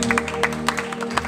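An audience at a Shasan Sthapna Diwas gathering in Girnar claps in a short burst of scattered, uneven handclaps over a faint steady hum, with a voice briefly audible.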